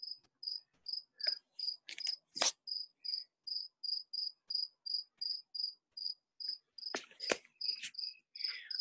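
Crickets chirp in a steady, evenly spaced pulse of short high trills, repeating about twice a second, with a few scattered clicks and rustles breaking in.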